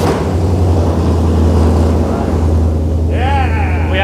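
A car engine on a dyno setup turning over and idling with a loud, steady low rumble that fills the clip, followed near the end by a rising whine.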